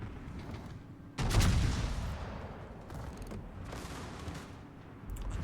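Warship guns in World of Warships fire high-explosive shells: one sudden loud, deep boom rolls into a sustained rumble, followed by a few fainter distant shots and another low burst at the end.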